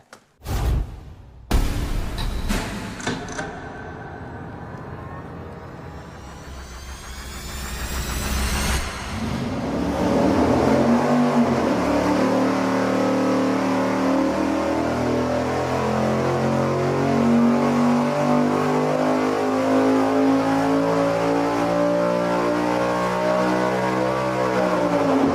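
A high-horsepower V8 on an engine dyno fires with sharp bursts, then climbs in a long rising rev during a baseline pull before holding a loud, harmonically rich wail at high RPM for the rest.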